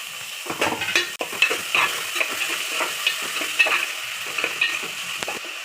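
Chopped onions and green chillies fry in a pan for an Andhra-style chicken curry, a steady close sizzle broken by repeated scraping stir strokes and spoon knocks, with no voices.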